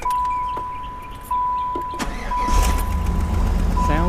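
A 1993 Chevy Z28 Camaro engine cranks and fires up, a high electrical whine running steadily under the starter before the engine catches near the end and settles into a loud, close idle rumble; a small exhaust leak is noted.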